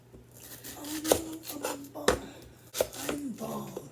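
An onion being cut with a knife on a cutting board: about five or six distinct crunchy chops with soft slicing rasps between them, close and fairly loud.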